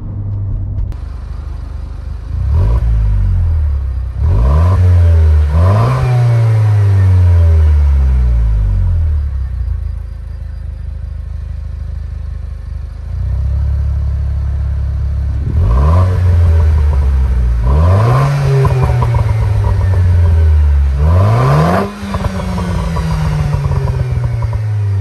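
A Renault Clio 4 RS exhaust revs in normal and sport modes, heard from outside the car. Repeated loud sweeping rev blips rise and fall in two bursts, with a steady idle in between.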